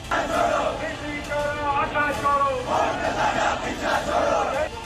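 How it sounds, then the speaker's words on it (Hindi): A large crowd at a protest chants slogans in unison, with loud rhythmic shouted waves repeating over several seconds as many voices rise and fall together. "चारों तरफ पीओके की आजादी और जीतेंगे या मरेंगे के नारे गूंज रहे हैं।"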